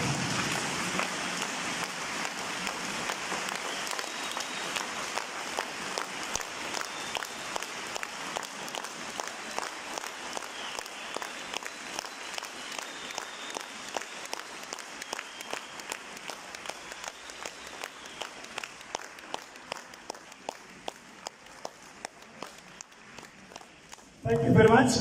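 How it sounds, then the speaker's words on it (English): A large audience claps steadily at a political party congress after an acceptance speech by the AZAPO president, with dense applause and some rhythmic clapping that slowly thins toward the end. "can I request you to stand up and clap and clap and raise this roof"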